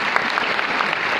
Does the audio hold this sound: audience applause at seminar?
yes